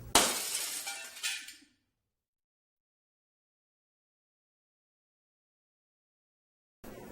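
Glass breaks in one loud, bright shatter with tinkling fragments for about a second and a half, then near silence, with a short burst of noise at the very end.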